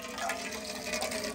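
Hot water pouring from an improvised village water heater, a continuous close splashing gush of running water.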